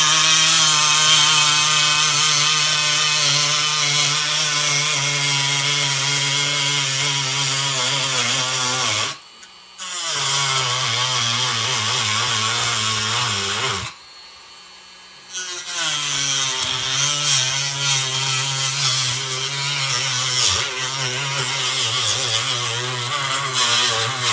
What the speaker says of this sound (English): Turn my Dremel up a little bit after I make that first pass.